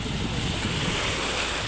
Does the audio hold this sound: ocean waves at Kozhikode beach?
yes